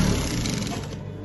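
Sewing machine stitching a senator placket, giving a steady, close mechanical whir that runs without a break for a short moment.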